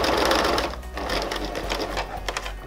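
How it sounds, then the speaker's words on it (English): A sewing machine stitches along the binding of a quilt, a steady close mechanical whir that slows and trails off into lighter rattling stitches. "I'm now going to sew level to that nick,"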